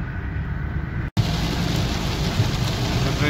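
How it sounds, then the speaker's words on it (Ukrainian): Steady rain pours down during a drive home near the Poland–Ukraine border, a dense, even hiss that stays loud throughout, broken only by one brief dropout near the start. "Дощ такий пішов нормальний."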